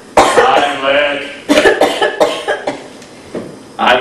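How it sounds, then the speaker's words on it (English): A bout of harsh, rasping coughing, loud and close, in repeated bursts with short pauses and a throat-clearing quality. "Coughing is burning."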